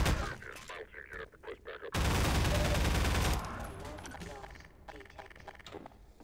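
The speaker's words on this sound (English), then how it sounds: "Like, they're using guns" Militia gunfire in the video game Half-Life 2: Episode 1, rapid bursts of automatic shots, then a loud sustained barrage and scattered fire, with someone talking over parts of it.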